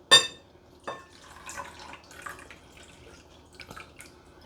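Water poured into a bowl of kofta meat mixture seasoned with sweet paprika, heard as a sharp splash followed by faint, scattered drips and trickles in a quiet kitchen.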